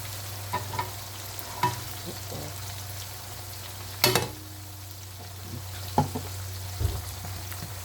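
Tomato and green chili paste frying in a pan for potato pulao, with a steady low sizzle under scattered clinks and scrapes from stirring, one sharp clatter midway and no talk.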